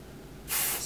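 Nick Chavez Velvet Hairspray, a hydrating and thickening spray, is sprayed into hair in one short, close, bright hiss that starts abruptly midway after quiet room tone and holds steady to the end.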